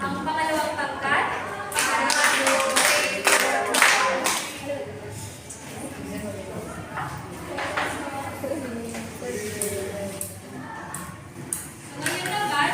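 A school class clapping in a patterned rhythm, repeated bursts of claps over several seconds, with voices talking around them.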